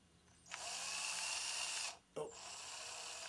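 A power drill whirs steadily for about a second and a half, stops briefly, then spins up again, close and fairly loud in a quiet room.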